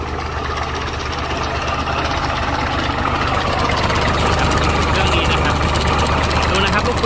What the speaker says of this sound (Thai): เปิดเครื่องยนต์ขึ้นครับ เปิดเครื่องยนต์ขึ้น